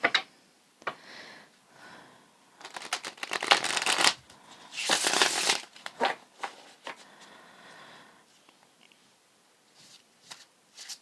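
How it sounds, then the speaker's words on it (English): Tarot cards shuffled by hand in a quiet room, a long run of crisp riffling bursts and soft slides with brief pauses between passes, close and alone. "I just usually shuffle until it feels good to me."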